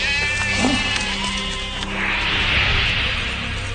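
Sheep and goats bleat amid a busy outdoor ambience, with wavering animal calls over a continuous buzzing background, moderately near and without talk.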